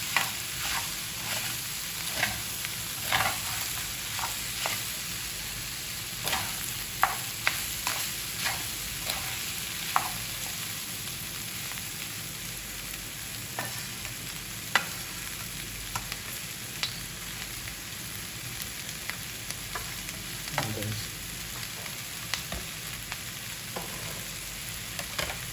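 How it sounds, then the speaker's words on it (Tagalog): Pork for dinuguan frying in its own rendered fat, a steady close sizzle with crackles and pops and occasional stirring scrapes, no voices. "pamantikain natin siya para maluto sa sarili ng mantika"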